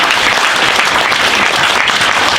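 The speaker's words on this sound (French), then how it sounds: "Nous allons encore applaudir très fort," A graduation audience at an academic degree ceremony claps loudly and continuously, a dense, steady wash of applause filling the hall with no pauses.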